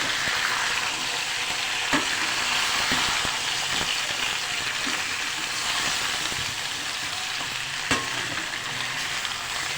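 Potatoes with turmeric and salt sizzle steadily in a hot pan while being stirred, a constant frying hiss with a few soft spoon scrapes and knocks against the pan.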